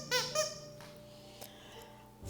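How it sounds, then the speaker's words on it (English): A plush lamb chop dog toy bought at a pet shop gives two quick high squeaks close by, then a faint third squeeze later amid quiet room noise. "It squeaks."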